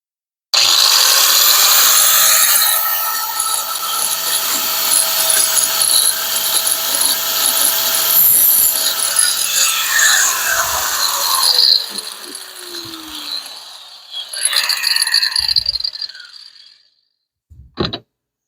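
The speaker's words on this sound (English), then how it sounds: "if you cut it with that grinder, that's what you get" An angle grinder cuts through metal in a workshop during a Hemi Plymouth Duster carburetor job, a loud continuous whine that slowly falls in pitch as it bites, then cuts out and spins up again in short bursts before stopping.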